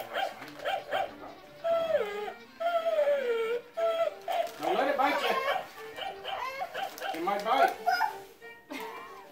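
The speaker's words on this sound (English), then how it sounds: "That's a doggy." Small dog making yips, whimpers and short barks at close range, mixed in with lively talk from people at a Christmas gathering.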